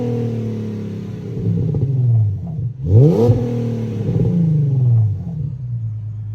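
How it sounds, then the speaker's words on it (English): An Infiniti G37 sedan fitted with a new Y-pipe idles with a deep exhaust drone and is revved several times, each blip rising and falling sharply, heard close up with no talking. "I'm gonna give you guys a rev and let you guys hear it"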